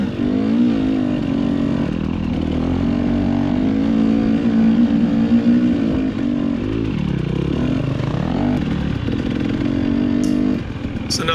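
A dirt bike engine climbing a mountain trail at Brushy Mountain, revving hard and loud with the pitch rising and falling as the throttle is worked, steady and unbroken.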